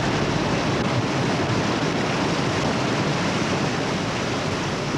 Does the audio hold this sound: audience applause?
no